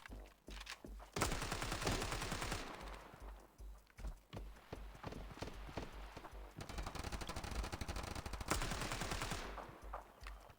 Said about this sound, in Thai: ยิงทะลุกำแพง